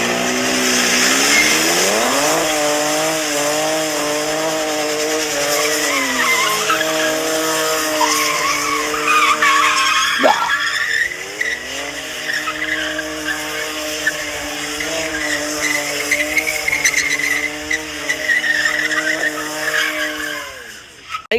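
A 2026 Dodge Charger Six-Pack with an inline-six engine revs hard while its tires skid and squeal, loud and close, pitch rising and falling across sustained burnout-style runs.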